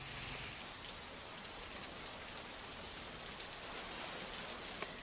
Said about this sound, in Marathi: रायगड जिल्ह्याला मुसळधार पावसानं झोडपून काढलंय